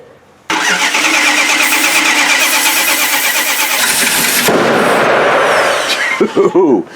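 A 1976 Winnebago Brave motorhome engine cranks and roars to life, running loud and rough with a heavy rumble before cutting off abruptly, followed by a few rattling clunks.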